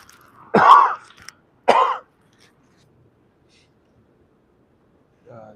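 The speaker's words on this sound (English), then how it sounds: "Diesel fumes or something is making me cough." Two short, close coughs in quick succession from diesel fumes aboard the Grand Princess cruise ship, followed by silence and a faint rustle at the end.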